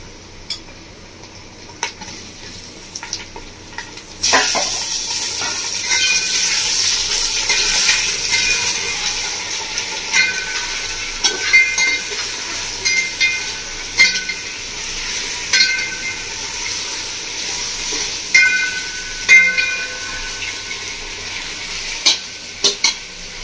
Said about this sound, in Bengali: এবার দিয়ে দেবো ধুয়ে রাখা খাসির মাংসটা।